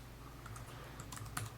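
Keys clatter in a quick, light run on the Motorola Atrix 4G laptop dock's keyboard, a steady close patter with a few louder taps near the end.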